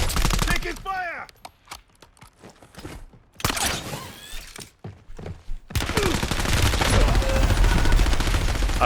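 A gun is hip-fired in the video game Warzone, producing rapid bursts of automatic gunfire. The bursts are separated by pauses and end in a sustained stretch of shooting, with brief talk between them.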